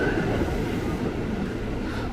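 A KRL commuter electric train rolls through Depok station, a steady, loud broadband rumble of wheels and carriages on rail running continuously with no pauses, close by.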